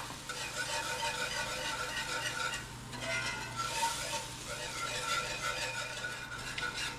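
Flour cooking in a pan to start a beef-broth gravy, a steady close sizzle under continuous scraping and stirring with a utensil, no talk.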